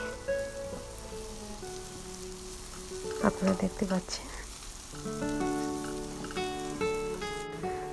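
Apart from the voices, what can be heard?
ingredients being stirred and fried in a pan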